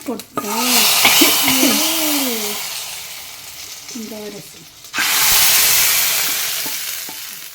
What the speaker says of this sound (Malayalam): കടുക് വറുക്കണം പൊട്ട ഇതിലേക്ക്